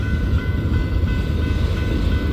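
A night train rumbles along the rails, a loud, steady low roar of the moving carriages heard from on board, with no voices.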